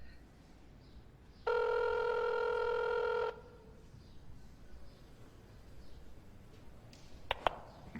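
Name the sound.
phone call ringing in video game Crowns and Pawns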